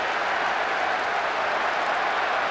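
A steady crowd murmur from the PS2 football game Winning Eleven fills the clip at an even level, a dense, continuous wash with no talk.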